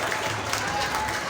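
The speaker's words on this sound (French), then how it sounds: "Sous vos applaudissements pour Aminata Ndane Sen." An audience applauds a prize winner at an award ceremony for a dictation and mathematics contest, a continuous crowd of clapping hands at a moderate, even level. It is short and carries no distinct voices.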